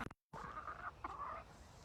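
Hens clucking inside a backyard chicken coop, excited over fresh carrot tops, with a steady, close murmur of soft clucks and a brief sharper call partway through.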